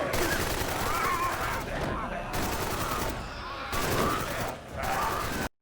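Gunfire during a zombie attack in a movie: rapid bursts of automatic fire in several volleys with brief gaps, loud and dense, with shouting voices mixed in.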